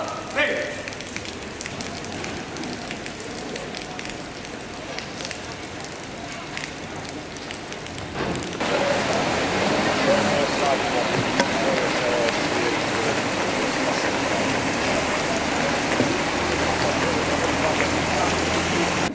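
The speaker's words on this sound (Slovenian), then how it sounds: "Zbudili smo se v deževno nedeljsko jutro." Rain falling on a Sunday morning, a steady hiss of drops on surfaces that grows noticeably louder and denser partway through, continuous and close throughout.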